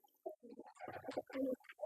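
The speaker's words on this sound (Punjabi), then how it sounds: "ਦੇਖ ਲਓ ਉੱਡਣ ਵਾਲੇ ਕਬੂਤਰ" Flying pigeons for sale coo nearby in a short run of soft, throaty calls, quiet and alone with no talk over them.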